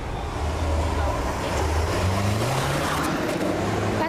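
A stolen car speeds past sheriff's deputies on a Minnesota road, heard as a steady broadband engine and road roar that swells and fades across the clip.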